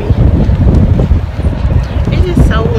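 Strong outdoor wind buffets the microphone in a constant low roar, loud and gusty throughout with no break.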